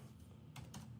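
Two quick keyboard clacks sound as someone types on a computer keyboard, faint and close over a low steady hum.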